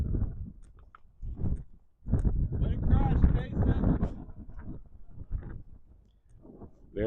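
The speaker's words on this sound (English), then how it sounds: "Very windy day here." Strong wind buffets the microphone at an outdoor high school boys' varsity soccer match, loud irregular low rumbling gusts that swell and fade across the field.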